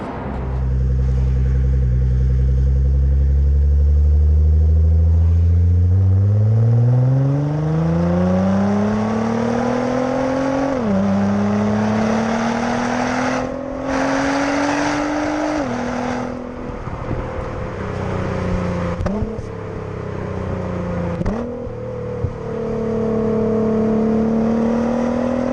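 A 2017 Nissan GT-R with a Stage 4 Litchfield upgrade making 675 bhp roars as it accelerates hard, its engine note climbing steadily through the gears with brief dips at each shift, loud and sustained without any voices.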